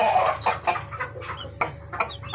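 A captive chukar partridge calling nearby, a run of loud clucking notes in quick bursts with no talk.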